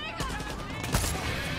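Several sharp gunshots ring out in the video game Far Cry 6, close and punchy bursts spaced across a short stretch over a steady game background, with a person talking.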